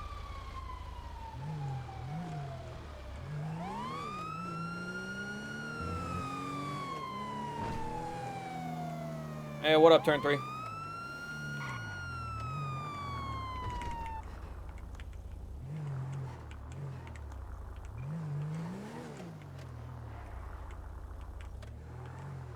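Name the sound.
emergency vehicle sirens in a video game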